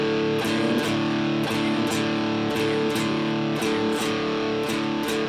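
Guitar strummed in a swung eighth-note blues rhythm, steady evenly spaced strokes with chord tones ringing between them, played alone at moderate volume with no voice.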